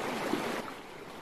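Small stream flowing in a short replayed clip, a soft, continuous wash of running water heard alone and fairly faint.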